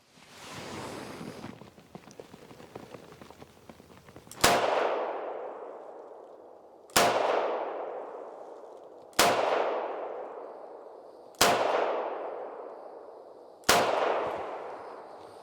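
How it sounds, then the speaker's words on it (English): Five loud gunshots from a Ruger LCR .38 Special revolver, evenly spaced about two seconds apart, each followed by a long decaying echo, after a stretch of faint rustling. "This gun is the Ruger LCR. So it's a 38 special."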